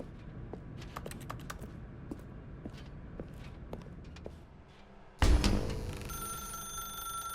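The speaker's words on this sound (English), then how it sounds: "Now pick up the phone." A telephone in the video game The Stanley Parable starts ringing partway through: a sudden, loud, steady electronic ring that follows a stretch of soft clicking steps and ambient room tone.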